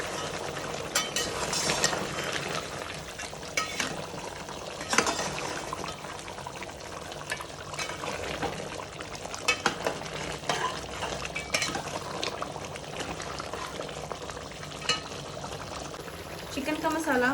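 Chicken pulao masala with biryani spice being stirred in a cooking pot, a steady scraping and stirring clatter with soft sizzling running throughout, close and fairly even in loudness.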